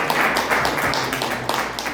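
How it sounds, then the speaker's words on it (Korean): Congregation applauding in a Korean church in Mexico to welcome visiting missionaries, a brief steady patter of many hands clapping, moderately close. "먼저 박수로 감사드립니다."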